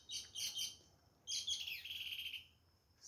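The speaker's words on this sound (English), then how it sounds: "way over there, that's a cling bird." A cling bird calls from some distance in an early-morning feeding tree. It gives two bursts of bright, rapid, high-pitched chirps, the second longer and trailing off, with no talk.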